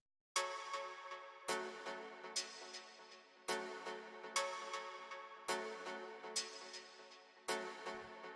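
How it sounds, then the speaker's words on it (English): Hi-hat samples pass through a resonator effect, giving metallic, pitched ringing hits that repeat in a steady pattern of about seven strikes, each decaying slowly into the next, fairly quiet and alone. "the first sound we have here is this little resonator thing"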